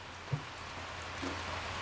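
Rain falls steadily outside near a sawmill, a soft, faint, even hiss with one or two small taps. No voices can be heard.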